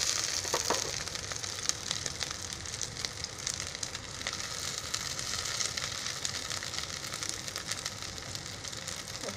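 Poha patties fry steadily in hot oil in a kadai, giving a continuous dense sizzle with faint crackles throughout and no voices.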